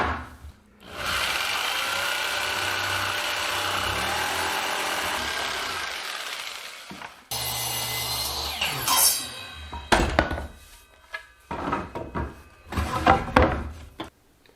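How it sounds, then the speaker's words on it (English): A power saw cuts notches in a wooden window sill during a home renovation, with a long steady whine that stops, then short bursts of cutting, clicks and wood knocks, all close and without voices. "And now I gotta cut out some notches on the side here."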